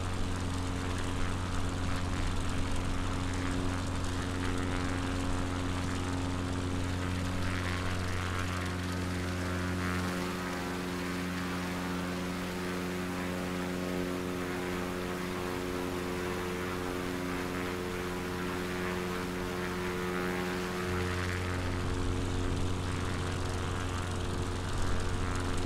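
Propeller aircraft droning steadily overhead near a glider field at Lossiemouth on the Scottish coast, a continuous loud engine hum with strong low harmonics that swells slightly in the middle and then eases.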